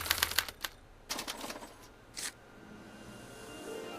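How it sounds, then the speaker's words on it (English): A special typewriter prints out a punch card, clacking in quick clustered bursts of keystrokes separated by short gaps. A faint mechanical hum carries on underneath, quiet and close. "As the responses are recorded, they're relayed to this special typewriter, which prints out a punch card that represents the subject's mind map."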